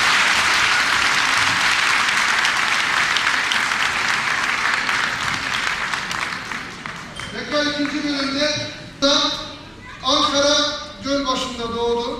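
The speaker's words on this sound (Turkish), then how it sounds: "Tekrar alkışlarla uğurluyoruz" Audience applause at the close of a concert at a religious program, a dense wash of clapping that fades as a voice begins speaking over it.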